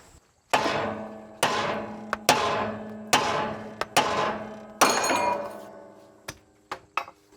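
A heavy hammer strikes a rusted, salt-corroded vehicle frame about nine times at uneven intervals. Each sharp, loud metallic blow rings briefly, and a couple of lighter taps fall in between.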